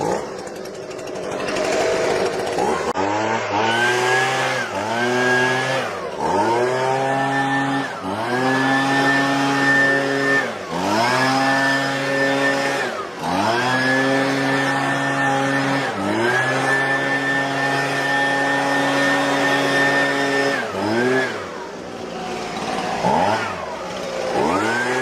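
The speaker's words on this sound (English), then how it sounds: "so I'm just going to clean it up with a leaf blower." A Husqvarna 125B handheld leaf blower runs close by, its two-stroke engine repeatedly revving up to a high whine, holding, then dropping back to idle in several cycles with no talking.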